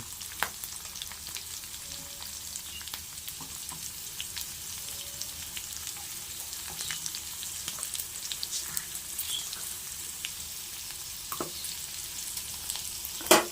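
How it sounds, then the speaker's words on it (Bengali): Poha stirred with salt in a frying pan gives a soft, steady sizzle with light scraping strokes of the spoon, faint and continuous throughout, with no talking. "নুন দিয়ে একটু নাড়িয়ে নিলাম।"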